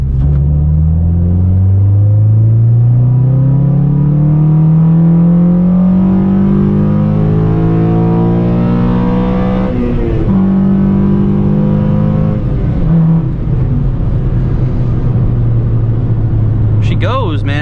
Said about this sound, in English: that intake, that is very, very loud and sounds so good